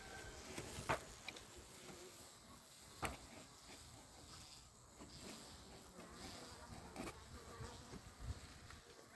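A soft, steady buzzing hum of a small, overwintered honey bee colony inside a polystyrene hive, fairly quiet and continuous, with a few brief louder bumps and knocks near the microphone.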